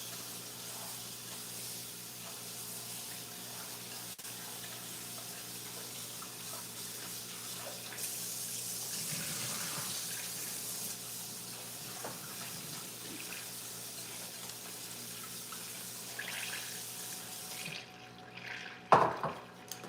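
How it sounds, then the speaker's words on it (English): Tap water runs steadily over sliced potatoes in a bowl in a home kitchen, a soft continuous splash with a brief louder swell midway and a few sharp clatters near the end. "I'm gonna put some water on the potatoes so they don't oxidize too much"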